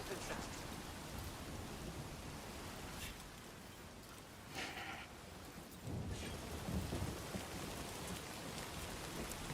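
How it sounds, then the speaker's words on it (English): Steady heavy rain pours in the Death Stranding 2 video game, a dense continuous hiss with low rolling thunder swelling in the second half. "And it's raining."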